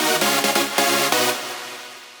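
Synth lead in FL Studio with a delay effect, a few bright staccato notes whose repeats ring on and fade out over about a second, loud and alone.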